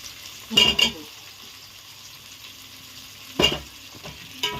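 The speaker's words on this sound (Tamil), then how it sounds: "உருளைக்கிழங்கு ரெண்டாக கட் பண்ணி அதிலே ஆயிலே வதக்க போகிறேன்" Halved potatoes sauté in oil in a pan, a soft low sizzle under a few sharp bursts of stirring and scraping, close and intermittent, with no voices.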